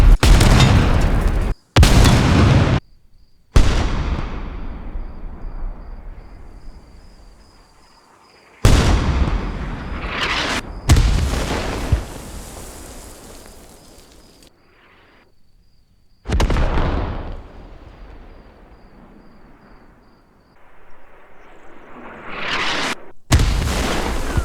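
Hell Cannon improvised mortar in SQUAD firing and exploding, a series of loud heavy booms with long rumbling decays separated by quieter gaps, close and powerful.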